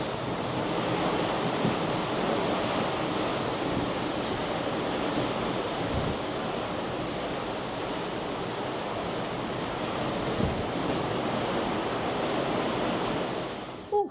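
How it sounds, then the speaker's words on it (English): Ocean waves and swells against the hull of the Disney Fantasy cruise ship on a transatlantic crossing, heard as a continuous broad rushing wash with wind noise and no talking. "Let me show you like the waves at the bottom of the ship."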